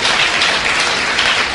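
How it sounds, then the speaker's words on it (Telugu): A crowd at a church gathering claps loudly, a dense continuous burst of applause heard close and alone. "గట్టిగా చప్పట్లు కొడదాం."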